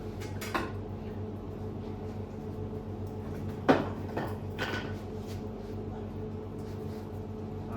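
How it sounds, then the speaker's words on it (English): Big chunks of wood being placed into a wood-fired oven, heard as a few scattered knocks and clunks with one sharper thud near the middle over a low steady hum, fairly close and without talking. "You can see I'm putting quite a few big bits in now, probably about 6 to 8 bits of big wood I'm putting in."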